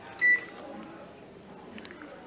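A microwave oven's control panel gives a single short, clear beep while grill cooking is being set, followed by quiet room tone.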